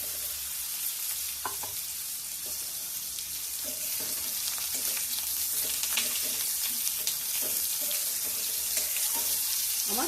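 Sliced ridge gourds hit hot oil with tempered spices in a home kitchen pan, giving a continuous bright sizzle with scattered pops and stirring scrapes, close and fairly loud.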